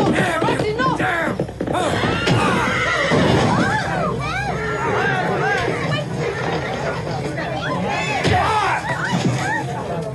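A horse whinnies and neighs repeatedly amid loud, chaotic shouting from several people, with scuffling noise throughout.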